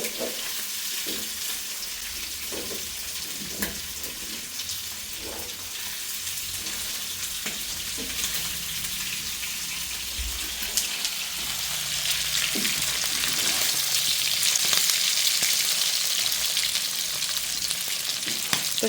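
Meat coated in turmeric and coriander powder sizzles steadily in a pan, a continuous loud frying hiss with occasional stirring scrapes, growing slightly louder toward the end.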